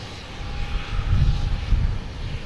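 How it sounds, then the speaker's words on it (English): A Delta Airbus A321neo jet arriving from Salt Lake City passes near Boston Logan Airport. Its engines give a steady, fairly loud roar that swells slightly in the middle and stays broad and continuous throughout. "Delta coming from Salt Lake City"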